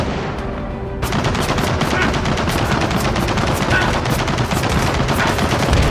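Machine-gun fire rattles in the Gears of War 4 video game, with loud, rapid, evenly spaced bursts that continue without a break over a dense battle din.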